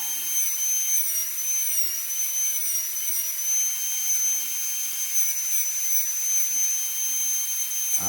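Dremel rotary tool power carving a small wooden baby dragon, a steady high-pitched whine held continuously and close, with no pauses or talk.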